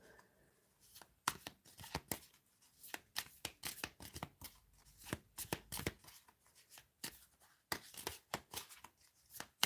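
Tarot cards shuffled by hand during a reading, a steady run of crisp riffling bursts and slaps repeating for several seconds, close and fairly quiet, with no talking.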